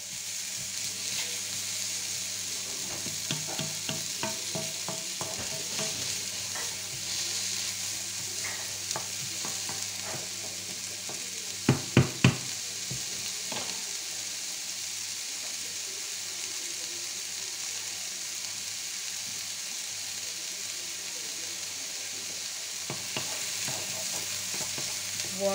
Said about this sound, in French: on fait revenir jusqu'à que nos oignons deviennent translucides